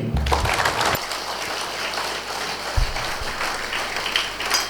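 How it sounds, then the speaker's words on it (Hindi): An audience at a spiritual talk claps together for a few seconds, steady and dense from start to finish, with a short burst of voice or handling noise near the opening. "प्रैक्टिकल ताली बजाइए"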